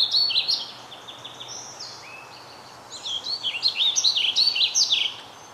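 Vireo song and chirping calls played back from a recording, a series of bright, quick warbled phrases with a slurred quality, a burst early on and a busier run of notes later, with no talk over them.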